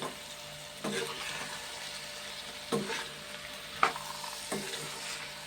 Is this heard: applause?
no